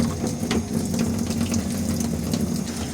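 Water runs steadily from an opened hot-water tap on a Tachi Smart Plus combi boiler with a variable-speed fan, a continuous rushing flow with a low pump-like hum beneath it and no voices.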